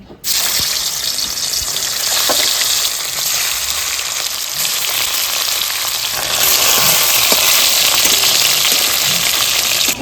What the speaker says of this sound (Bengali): আমি মাছগুলো ভেজে নিচ্ছি